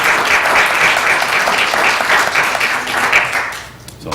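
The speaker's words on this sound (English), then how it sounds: "So applaud yourselves." A village council meeting audience applauds itself, a loud, dense sustained clapping from the room that thins and fades toward the end.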